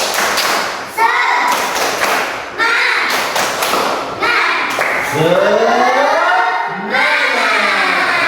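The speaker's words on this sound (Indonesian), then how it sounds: "1, 2, 3, tepuk semangat." A school class performs a rhythmic group clapping routine, sharp synchronized claps and thumps in short bursts, interleaved with children's voices calling out and chanting together between the beats.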